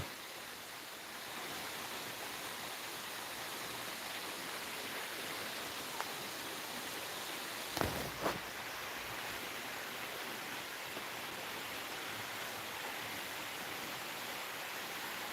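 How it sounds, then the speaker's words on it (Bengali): Heavy rain pours down steadily on a rainy day at home, a dense continuous wash of falling water with a brief knock or thump partway through, no talking. "আকাশটা দেখুন কি সুন্দর পুরো পুরো জলের জল মগ্ন হয়ে গেছে জল পড়তেছে গো"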